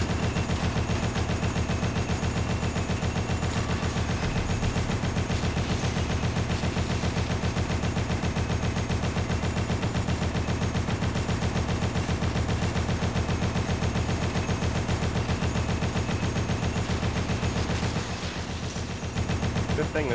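Steady, dense gunfire in a retro video game rattles on for the full stretch, loud and continuous with rapid repeated shots over a busy game soundtrack, briefly thinning near the end.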